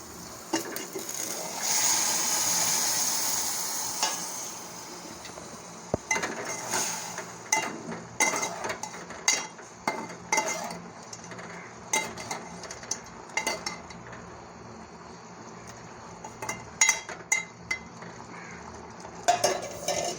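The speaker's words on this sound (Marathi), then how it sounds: "मी पाणी मिक्स करून घेते आहे" Spoon stirring water into green brinjal curry in a pan, giving a wet swish at first and then repeated sharp clinks and scrapes against the metal, close and clear.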